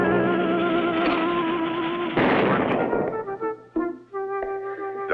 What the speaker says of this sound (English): Someone dynamited the trestle.